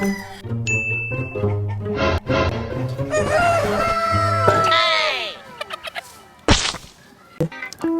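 Chicken clucking and rooster-like calls from a live chicken with its leg tied by rope, mixed with layered bright tones and sharp knocks, while people talk and shout nearby throughout.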